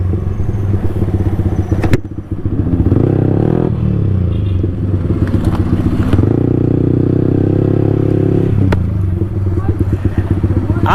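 Superbike motorcycles at a drag race, their engines roaring loud and close with sustained revving, rising and falling pitch, and a couple of sharp bursts, while voices are faintly mixed in.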